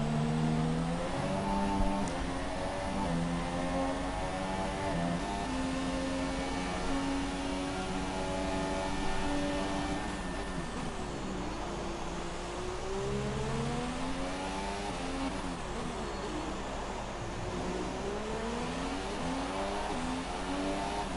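F2 racing cars accelerating through corners on the Singapore street circuit, engines whining up and down through the gears in sweeping rising pitches, several cars overlapping, loud and continuous with no talk.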